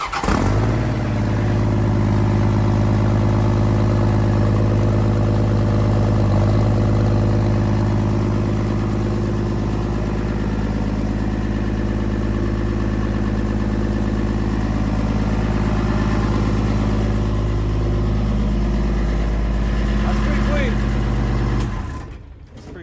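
A Perkins diesel engine in a sled pull truck at a Spokane sled pull idles loud and close with a deep, steady throb that holds for about twenty seconds before cutting off.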